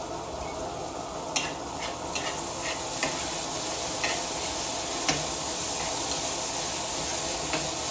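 Seasoned tofu and bean sprout filling for lumpiang togue is stirred in a frying pan with salt and crushed pepper, a steady soft sizzle broken by occasional scraping clicks of the utensil, close and continuous with no talk.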